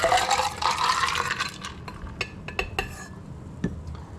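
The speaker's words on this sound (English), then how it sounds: "So by shaking it, I'm going to add more water to the cocktail without the sparkle" Ice rattles hard inside a shaker as a Doctor Funk's Son cocktail with lime is shaken, a dense, loud burst that thins into scattered clinks and knocks.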